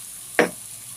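Raw rice tipped into a hot pot of frying vegetables for khichuri lands with a single sudden sizzling burst that quickly fades back to a low steady crackle.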